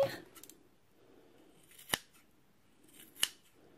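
Scissors snip open a pig heart during a dissection, two sharp, close cuts spaced about a second apart against a quiet background, with soft handling noise at the start.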